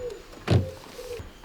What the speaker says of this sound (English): Door handles that present themselves.